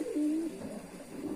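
A silver pigeon in molt, its body feathers falling out, gives a soft low coo, close and fairly clear, with no voices over it.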